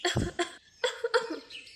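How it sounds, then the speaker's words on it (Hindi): A few short, harsh coughs from a cartoon bird in quick succession, close and fairly loud, with no talking. "चिड़िया खांसते हुए गिलास में दूध लाती है।"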